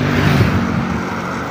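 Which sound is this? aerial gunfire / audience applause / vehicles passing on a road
vehicles passing on a road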